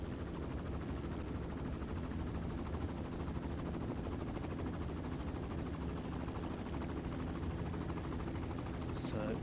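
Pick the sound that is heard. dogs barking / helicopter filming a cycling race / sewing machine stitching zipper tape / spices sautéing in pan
helicopter filming a cycling race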